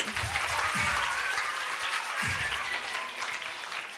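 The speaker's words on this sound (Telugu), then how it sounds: "అందరు గట్టిగా చప్పట్లు కొట్టాలి." Children at a summer camp clap loudly together, a dense, continuous burst of applause that holds steady for several seconds with no voices on top.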